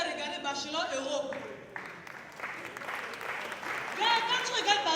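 An audience at a Montreux Afrique comedy show claps in a scattered, rising burst of applause that runs under a comedian's continuous talking.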